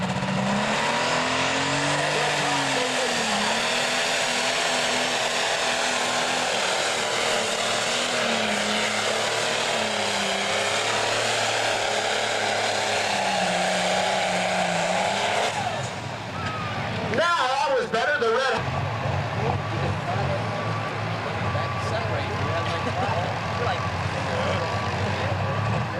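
An International Super Stock pulling tractor in the 7,700-pound class at a 1998 NTPA pull, its engine roaring loudly and steadily through the pass with shifting pitch, under an announcer's continuous commentary.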